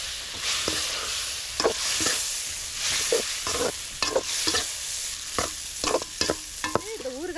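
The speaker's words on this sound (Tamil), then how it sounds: "எலுமிச்சம்பழம் சேர்த்து நல்லா கலந்து விட்டுருலாம்" Cut lemon pieces being mixed into pickle masala, with a steady run of scraping, clacking spoon strokes against a vessel over a faint background hiss, and no voices.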